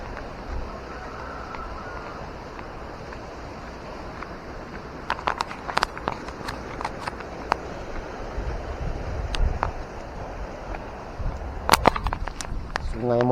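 Flash-flood river water rushing at the Muara Pisang river near a bridge, a steady broad roar with wind buffeting the microphone and scattered splashes and clicks, continuous and fairly loud throughout.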